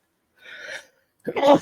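A single sneeze bursts out loudly near the end, after a brief breathy intake earlier.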